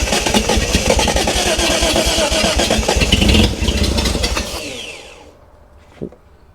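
A 1971 Datsun 240Z engine under restoration cranks and catches, running loud and rough with throttle held, then winds down and cuts off, followed by a brief knock in the quiet.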